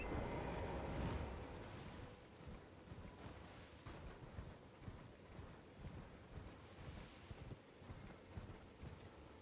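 Horse hooves gallop in a steady clip-clop rhythm while riding across open ground in the video game Elden Ring. The sound is moderately close and continuous, with no talking.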